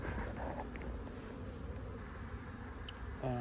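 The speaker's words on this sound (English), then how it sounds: "So what's going on with this hive, Tom?" Honey bees buzzing steadily around an open beehive during a hive inspection, a dense continuous insect hum with a brief clearer tone near the end.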